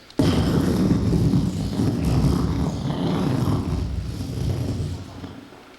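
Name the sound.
voice imitating an explosion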